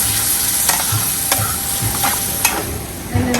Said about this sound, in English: Put that in the pan. I'm just going to let that cook a little bit until the sauce reduces.